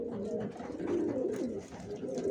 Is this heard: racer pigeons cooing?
yes